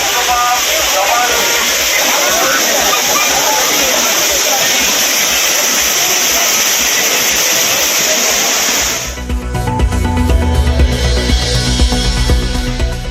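Water rushes down the Courtallam falls in a loud, steady roar that holds for most of the stretch, then cuts abruptly to a different, lower-toned rumbling background.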